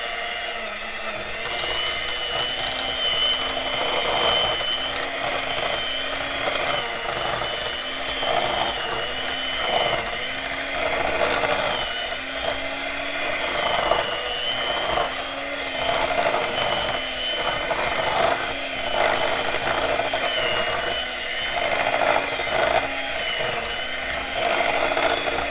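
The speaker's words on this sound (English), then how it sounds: "Use a hand mixer, and we're gonna mix this all together" A hand mixer whirs continuously through pimento cheese in a bowl, a steady close motor drone with a rhythmic pulsing as the beaters work through the thick mixture.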